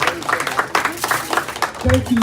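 At an APC political event, an audience gives a round of applause while a speaker's amplified voice carries over it. The clapping is moderate and scattered, partly masked by the talk.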